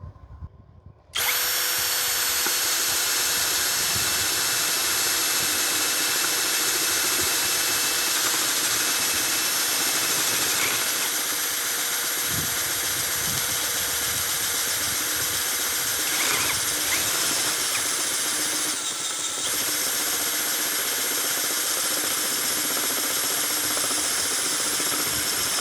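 A cordless drill from a Makita DHP490 vs Hanabi LJ2005 comparison runs a 1-inch flat spade bit into metal, a loud, steady high-pitched whine that starts abruptly and holds for about twenty-five seconds, with a brief dip near the end.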